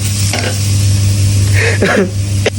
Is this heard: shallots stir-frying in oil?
yes